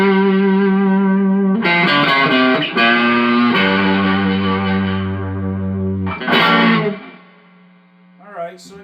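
Electric guitar played through a Joyo Vintage Overdrive pedal with drive at 10 and tone at 7 gives loud, distorted sustained chords and notes with a blooming, biting edge. A brief quieter pick scrape closes the passage.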